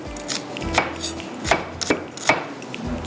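Onions are chopped finely on a board with a knife, four or five distinct, evenly spaced close chops over a quiet background.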